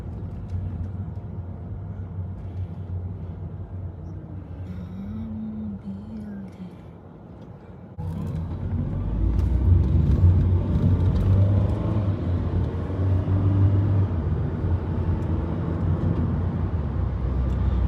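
Car on a road trip in Japan, a steady engine and road rumble inside the cabin that grows louder and fuller partway through, with faint talk underneath.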